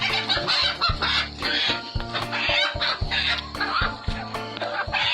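Chickens cluck repeatedly in a busy burst of rhythmic calls, close and fairly loud, with a rough background and no clear speech.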